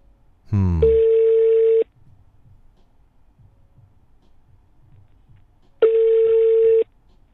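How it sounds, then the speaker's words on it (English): Phone call ringback tone, two long steady beeps separated by a few seconds of quiet, clear and close, with a brief dialing chirp before the first. "It's calling. All we need now is somebody to answer the phone."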